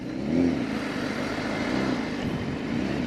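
A BMW S1000RR sport motorcycle engine droning steadily while riding, with a low, even hum and a couple of slight swells in revs, heard fairly faintly from the rider's position.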